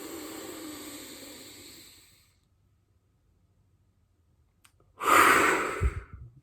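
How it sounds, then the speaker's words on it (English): A deep breathing exercise: a long, audible inhale drawn from the belly up into the throat fades out, followed by silence and then a sharp, loud breath near the end. "you really want to try and start from the belly and raise the breath right up into the throat"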